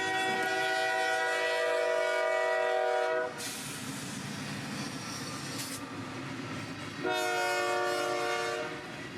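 A CSX freight train on the Brooksville Subdivision passes the Lutz depot, sounding a loud, sustained horn blast, then a stretch of rumbling wheels and wagons before the horn returns, with no voices.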